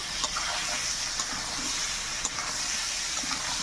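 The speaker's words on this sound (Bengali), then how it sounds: "রাখা আমগুলো আমি দিয়ে দেবো। হালকা করে নাড়তে থাকবো।" Mangoes for pickle are stirred in a pan with five-spice, producing a continuous close sizzle and hiss with faint scrapes and taps of the spoon, and no talking.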